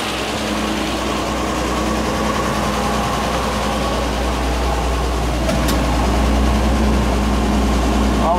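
An International R-185 fire truck engine idles at its first start near 1500 RPM, a steady, loud, low rumble that carries unbroken throughout as a person talks over it.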